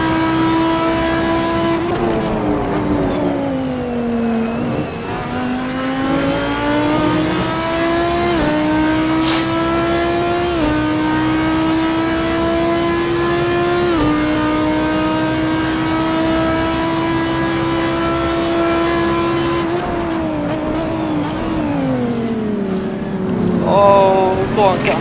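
GT3 race cars in the Assetto Corsa racing game at the Red Bull Ring, several engines droning together at high revs. A steady loud harmonic whine rises and drops with gear changes and throttle lifts across the whole stretch.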